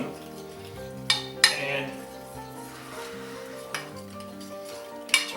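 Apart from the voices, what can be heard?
mixing egg yolks in a bowl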